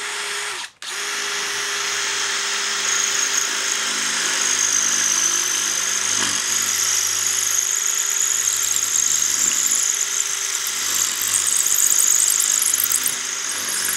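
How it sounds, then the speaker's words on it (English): A power drill bores a 6mm hole into a concrete block with hammer action off, giving a steady loud whine and grinding squeal that starts after a short pause and runs continuously with slight pitch dips. "let's drill a 6mm hole to the depth of the tape in both"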